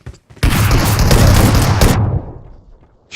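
Gunfire in a shooting video game, a loud dense burst of rapid shots with booming low thuds lasting a couple of seconds, followed by a decaying tail.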